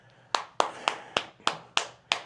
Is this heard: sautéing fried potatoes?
no